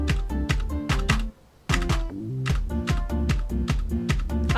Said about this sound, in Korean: 이거 키보드 소리 다 들리겠다.